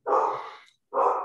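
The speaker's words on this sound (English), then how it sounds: "That's my dog." A dog indoors at home gives two fairly loud, close barks separated by a brief pause, with no talking over them.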